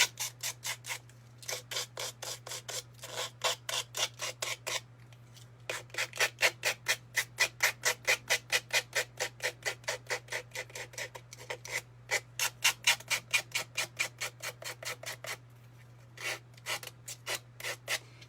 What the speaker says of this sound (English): I'm going to just use my nail file to just sand all the excess off